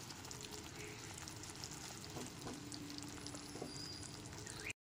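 Spice paste for tel potol fries on a low to medium gas flame, a dense, steady sizzle filling the space with faint scraping stirs, then it cuts off abruptly.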